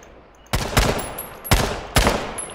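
Gunfire from a gun in the video game Z1 Battle Royale: four loud, close shots in two quick pairs, each sharp crack followed by a short ringing tail.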